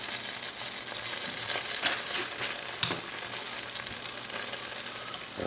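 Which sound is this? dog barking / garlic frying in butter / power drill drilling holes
garlic frying in butter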